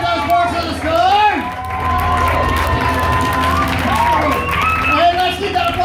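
Loud audience cheering, whooping and applause at a team poetry slam finals at the Utah Arts Festival, a dense crowd roar with shouts rising throughout and an announcer's voice carrying over it.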